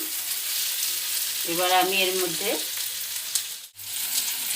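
Rui fish pieces and mango frying in oil in a pan, with a steady close sizzle and a brief stretch of stirring partway through.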